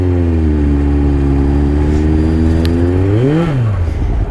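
A 2003 Kawasaki ZR7S motorcycle engine idling with a deep, steady burble close by, then a single quick throttle blip near the end that rises and falls in pitch.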